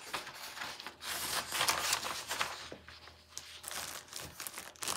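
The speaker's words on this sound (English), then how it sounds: "So, put a couple sheets of paper in here." Sheets of sublimation paper are handled up close while a pillowcase is readied for a heat press, giving steady dry crinkling and rustling with brief sharper crackles throughout.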